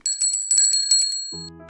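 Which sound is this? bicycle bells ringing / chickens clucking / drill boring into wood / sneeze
bicycle bells ringing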